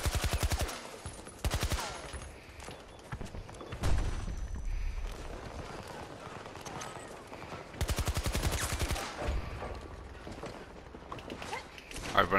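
Automatic gunfire in the video game Battlefield 2042 comes in several loud, rapid bursts separated by quieter stretches of clanks and mechanical rattles.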